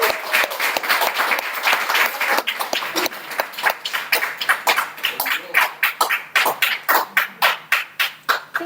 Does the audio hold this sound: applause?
yes